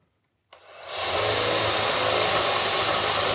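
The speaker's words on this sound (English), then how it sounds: "I'm going to drill about a 3/16 hole" A power drill spins up and bores a 3/16 hole into a wooden star on a workbench, starting abruptly and then holding a loud, steady whirring whine close to the microphone with no talk.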